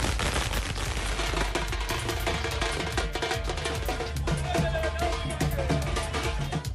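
Rapid crackling bursts of firecrackers going off continuously at a political party celebration in Tamil Nadu, loud and dense, with a busy crowd murmuring underneath.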